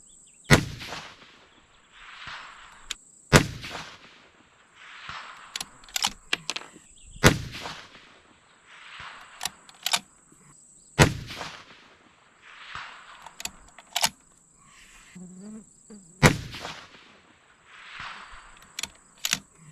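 A 6mm Dasher rifle loaded with Varget powder fires five sharp, loud shots spaced several seconds apart at a steel plate target outdoors, with fainter clicks and rustling between the reports.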